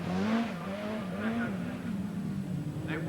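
A 1985 Lombard RAC Rally car engine revs hard and holds high on a slippery stage, a steady rising and falling drone with brief tyre squeal near the end, loud and close under a commentator's voice.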